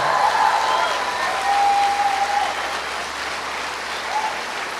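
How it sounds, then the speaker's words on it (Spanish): A church congregation breaks into loud, sustained applause, a dense wash of clapping that holds steady, with a faint tone and voices underneath. "Dale un aplauso fuerte a tu Padre."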